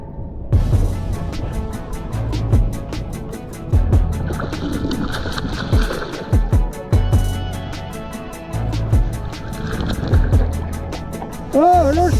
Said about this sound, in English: I'm paddling back to the spot now to